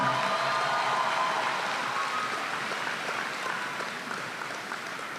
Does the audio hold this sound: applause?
yes